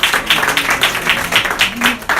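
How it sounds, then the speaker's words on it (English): Audience applause at a campaign kick-off event for an alderman-at-large candidate, a steady patter of many hands clapping throughout with a little crowd murmur underneath. "Let's give them all a round"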